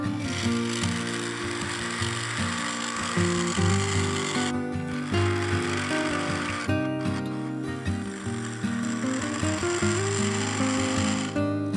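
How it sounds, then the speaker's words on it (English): A spindle gouge cuts a yew vase on a wood lathe, producing a continuous close rattling, chattering whir with brief pauses where the tool lifts off. "Then I went back to the spindle gouge to finish the cutout."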